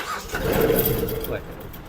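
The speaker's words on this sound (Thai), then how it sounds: "เครื่องยนต์ก็ติดง่ายนะครับ" A 2020 Kubota B2740S tractor fitted with a cane guard frame starts up, a short cranking burst catching into a running engine, close and fairly loud, with someone talking over it.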